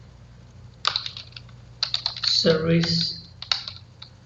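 Close, crisp keystrokes on a computer keyboard as Java code for a file watcher is entered, short clustered bursts of clicks with pauses, and someone briefly speaking over the typing.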